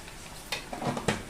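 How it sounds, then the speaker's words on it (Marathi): Potato and pea curry with tomatoes sautés in oil, a low sizzle under a few quick scraping stirs of a spoon against the pan. "आता हे मस्त तेल सुटेपर्यंत परतून घेऊया"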